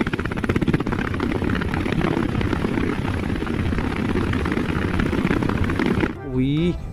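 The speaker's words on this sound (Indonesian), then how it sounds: "ada helikopter" A military helicopter's rotor thumps steadily and loudly overhead, a continuous pulsing drone that dips briefly near the end.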